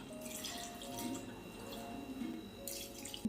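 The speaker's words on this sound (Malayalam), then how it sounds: "ഈ മുന്തിരി മുങ്ങിക്കിടക്കാനുള്ള വെള്ളം ഒഴിച്ചു കൊടുക്കാം" Water is poured into a kadai of grapes, making a faint, continuous trickling and splashing that runs steadily for a few seconds with no talk.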